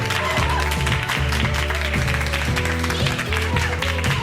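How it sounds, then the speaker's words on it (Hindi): Audience clapping to welcome a bishop invited onto the stage at a formal event, steady broadband applause under a strong sustained musical tone with repeating notes, fairly loud throughout. "जोरदार तालियां।"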